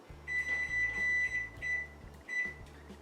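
Kitchen oven being set to preheat to 400 degrees, several short electronic beeps in a row over a low hum, with a longer tone between them.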